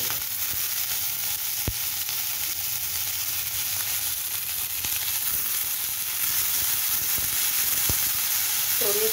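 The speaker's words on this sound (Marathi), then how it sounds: "थोडीशी तेलावर परतून घ्यायची जरा छान लागते मग।" Capsicum sautéing in oil for pav bhaji, a steady, moderate sizzle with a few faint clinks of utensils scattered throughout.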